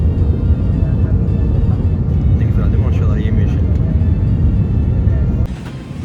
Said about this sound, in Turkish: Ve inişe geçtik şu an Tayvan Taipei Havalimanı'na doğru süzülüyoruz.